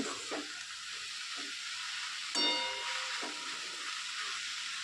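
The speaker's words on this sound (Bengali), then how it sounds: "হলুদটা দিয়ে আবারও আমি শাকটাকে নাড়িয়ে নেব" Red amaranth greens with turmeric and salt sizzle steadily in a pan on a medium flame, with a few soft scraping stirs and one sharper clatter midway, quiet and without talk.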